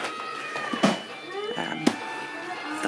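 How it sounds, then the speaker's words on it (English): A house cat meows a few times indoors, short, close, tonal calls with a brief pause between them. "cat's just come in the room"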